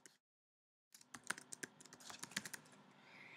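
Fingers type on a computer keyboard while writing a film script, a quiet run of irregular clicks and key taps starting after a brief pause and continuing to the end, close and soft with no speech.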